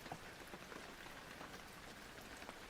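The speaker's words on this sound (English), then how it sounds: "Like you can hear rain. Just rain. That's the game right now." Rain falls in the horror video game Penumbra: Overture, a faint, even patter of drops on a surface that runs steadily with no other sounds or voices.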